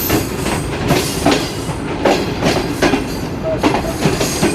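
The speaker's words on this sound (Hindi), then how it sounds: "गुजर खान रेलवे स्टेशन पर एक गाड़ी का क्रॉस हो रहा है जी" A train passes on the track at Gujar Khan railway station, loud and close, with rhythmic clickety-clack wheel beats on the rail joints and occasional faint wheel squeal.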